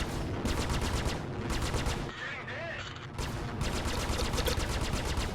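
Rapid bursts of spaceship gunfire during a Vanduul Swarm fight in the video game Star Citizen, with one gun malfunctioning and firing off to the side. Loud machine-gun-like volleys come in two stretches separated by a brief lull.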